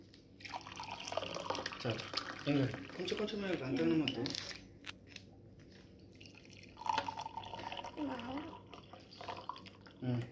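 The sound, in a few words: pouring water into a pot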